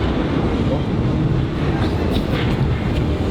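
A Paris metro train arrives, its loud, steady rumble and rail rattle filling the space with brief squealing brakes near the end, while people talk over the noise.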